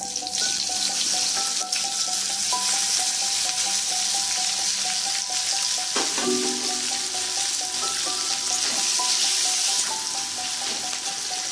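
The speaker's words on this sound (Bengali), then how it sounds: "ভাজা হয়ে গেছে পেঁয়াজগুলো দিয়ে দেবো পেঁয়াজ কুচানো" Chopped onions frying in hot oil with cumin and a bay leaf for a Bengali fish curry. A steady, dense sizzle runs throughout with faint tonal clinks, close and loud, with no talking.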